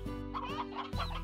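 Chickens in the game Slime Rancher cluck in a quick pair of bursts, loud and near, with no voices over them.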